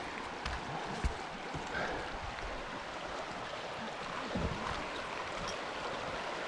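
Broadband rushing of a river's current around a person wading across a river in Lapland, Finland, near Urho Kekkonen National Park: steady, moderately loud watery wash with occasional splashes, no voices.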